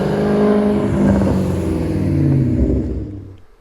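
A Maserati engine starts and rumbles close by, revving and running steadily for a few seconds before the sound drops off.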